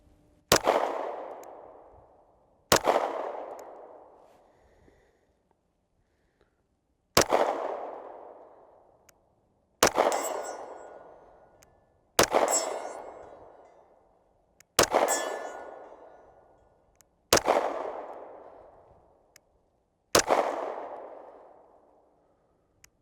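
Eight pistol shots from a CZ P10S at a steel target 50 yards away, each a sharp crack followed by a long ringing metallic clang that fades over a second or two. The shots are spaced irregularly, several seconds apart, with no talk between them.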